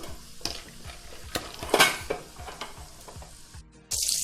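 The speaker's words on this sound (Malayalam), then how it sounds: "സാധാ നിലക്കടലയാണ് അപ്പം അതും കൂടെ ഒന്ന് നന്നായിട്ട് വറുത്ത് കോരിയെടുക്കുക" Peanuts frying in hot oil for a homemade mixture snack, with soft sizzling under repeated scraping and stirring clinks of a metal ladle in the pan, close and fairly quiet.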